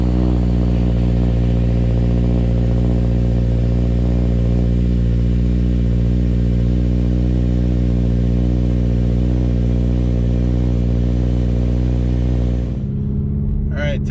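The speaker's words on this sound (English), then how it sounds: "Doing a little sound testing with the new exhaust." Subaru XV Crosstrek exhaust with the muffler deleted, a loud, deep, steady drone held for about twelve seconds before cutting off abruptly, followed by brief clatter.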